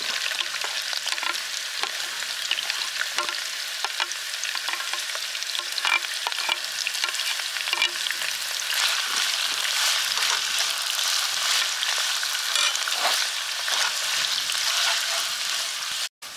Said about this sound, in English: Fry the onions until they become translucent.